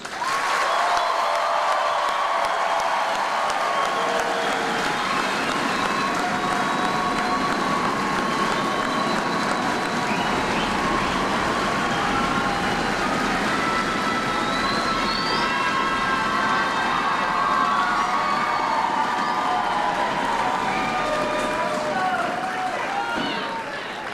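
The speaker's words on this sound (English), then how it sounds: "Please join me in a round of applause for your soldiers." A large crowd applauds the soldiers at an Army basic combat training graduation at Fort Jackson, South Carolina, with sustained outdoor clapping and cheering, while a voice speaks over the applause.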